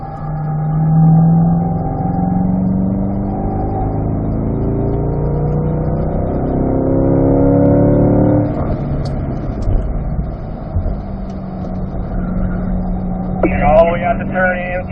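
A C8 Corvette on the Spring Mountain Raceway track, its engine droning steadily as it brakes and accelerates through a corner, heard beneath continuous close instructional talk.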